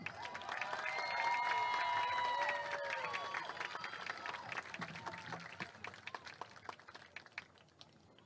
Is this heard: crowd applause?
yes